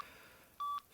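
A Mitsubishi MT401 mobile phone gives one clear keypad beep, a short steady electronic tone that rises out of faint background hiss and stops cleanly.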